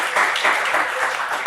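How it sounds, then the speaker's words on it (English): Audience applause after a talk by a politician, a dense wash of clapping that stays steady and fairly loud for the whole moment, with a few swells and no voice over it. "Yeah, you can clap for that."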